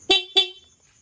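Two short, bright beeps from the stock horn of a Yamaha Aerox motorcycle, close and loud, quickly repeated one after the other and then fading into quiet.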